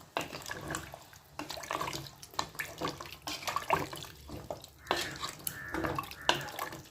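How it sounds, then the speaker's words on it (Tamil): Water splashes and pours in uneven bursts into a cooking pot of goat trotter soup nearby, with clanks and sloshing as it is added, no speech. "இப்போ தேவையான அளவு தண்ணி சேர்த்து வச்சு"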